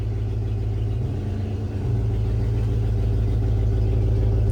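A 1994-1995 Dodge Ram 1500 second-generation pickup's engine runs steadily at idle, a loud continuous low rumble with a brief dip in level, close by with no talking.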